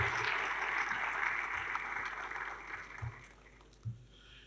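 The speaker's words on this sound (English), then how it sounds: "And let's give him a round of applause." A seated audience gives a sustained round of applause for a father at a keynote speech during an inaugural lecture in Ekiti State, the clapping steady and moderately loud before thinning out near the end.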